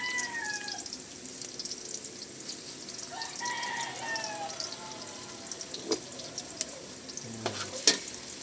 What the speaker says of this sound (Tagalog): Gigisa lang po natin mabuti.